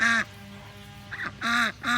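A goose honking nearby outdoors, three loud, harsh honks with a softer call between them, separated by short pauses.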